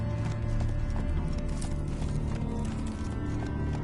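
Roach the horse's hooves clip-clop steadily in The Witcher, set in Novigrad, a continuous close trotting rhythm over a dense game soundscape, with a faint whinny and no talking.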